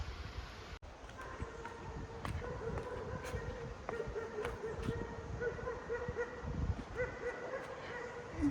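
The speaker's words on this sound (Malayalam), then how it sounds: "അവിടെ പട്ടിയാണ്." A dog barks in short, faint, spaced bursts somewhere off in the distance, heard over a steady outdoor background hum along a solo trip route.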